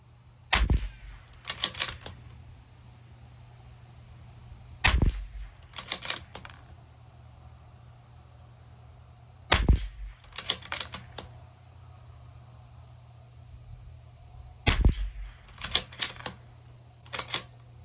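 Rifle shots from a Bergara B14R Carbon at a 50-yard range, sharp close reports arriving in spaced groups of a single shot followed by a quick cluster, with mechanical clacks between them.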